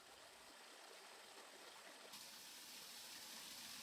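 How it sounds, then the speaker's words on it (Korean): Water rushes between rocks and pours into a large waterfall in a stream as spring thaw melts the ice, a steady broadband roar heard alone and growing slightly fuller partway through. "바위 사이로 흘러내리는 물은 거대한 폭포를 이룬다."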